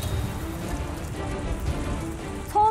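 Heavy rain on an uninhabited island during a heavy rain warning pours steadily in a dense, even hiss, drumming on surfaces without pause.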